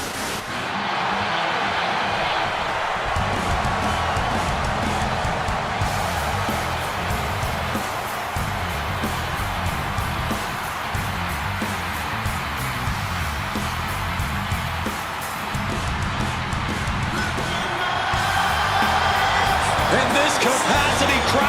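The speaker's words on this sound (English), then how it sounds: "Capacity crowd just exploded." Capacity crowd in a WWE 2K26 arena cheering loudly and continuously for CM Punk versus Seth Rollins at Raw, a dense roar that stays steady throughout and swells near the end, with commentary voices over it.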